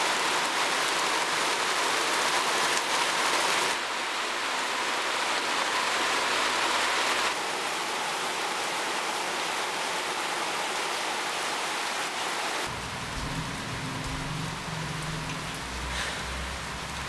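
Steady, heavy rain pours down continuously, a dense hiss with shifts in intensity and a low rumble near the end, no voices.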